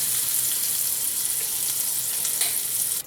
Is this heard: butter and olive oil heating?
yes